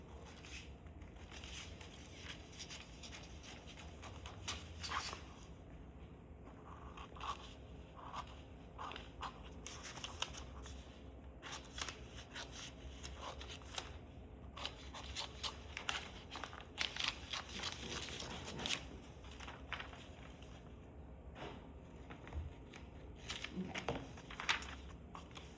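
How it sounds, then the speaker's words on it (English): A paper sewing pattern is cut around its edges with scissors, faint close crinkling and snipping in irregular bursts along with paper rustling, low in level and without speech. "I'm gonna just cut around the edges"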